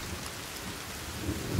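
Steady rain and low thunder rumble through the atmosphere of The Forest survival game, a faint, even wash of rainfall with a deeper swell near the end.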